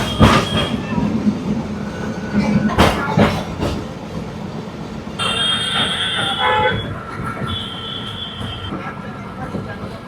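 A Kolkata tram runs on its rails with steady rolling clatter and rhythmic clicks of wheels on track, then high metallic squeals of wheels grinding through a curve, close and loud in busy city surroundings.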